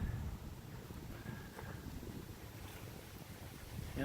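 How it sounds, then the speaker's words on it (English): Wind blowing outdoors across a burning rocket stove, a soft continuous rushing and low rumble, faint and steady with slight swells, no voices. "that wind really does help it out"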